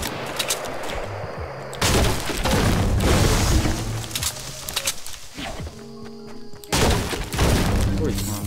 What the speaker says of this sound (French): Il y a encore un mec dans un toit là-bas qui tire